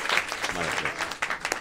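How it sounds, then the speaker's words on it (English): Audience at an ISKCON Coventry evening program claps for a guest swami, a short burst of applause mixed with faint voices, moderately loud and fairly close. "Come, round of applause for Maharaj for coming."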